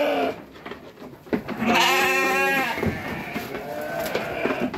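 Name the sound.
Garut sheep bleating on a farm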